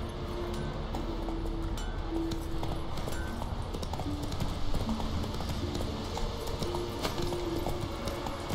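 Geralt's horse Roach from The Witcher 3: Wild Hunt clip-clops steadily in a continuous, fairly loud stream of hoofbeats, mixed with ambient game sound throughout.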